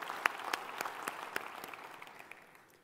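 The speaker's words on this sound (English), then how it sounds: "Please, let me applaud you." Applause from a conference audience at an industry show, with a few distinct sharp claps over a broad wash that gradually fades toward the end.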